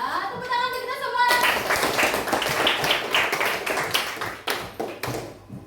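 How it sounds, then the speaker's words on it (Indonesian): A class of schoolchildren claps together in a classroom. After a short sung or chanted phrase, a burst of fast, rhythmic hand claps starts and continues close and loud, with several distinct accented claps near the end. "Tepuk tangan untuk kita semua"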